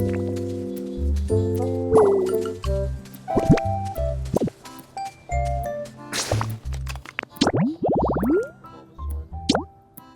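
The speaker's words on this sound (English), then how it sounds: "Use water gun to revive 10 dry plant areas." In the Pokopia video game, Squirtle sprays water gun on dry plant areas, making cartoonish drips, plops and squishy splashes in irregular bursts, with synthesized tones and rising chirps between them.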